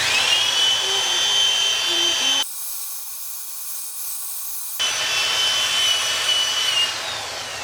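Whirring, high-pitched power sanding of a wooden turning on a lathe, steady and close for about two seconds, dropping out briefly, then resuming at the same level.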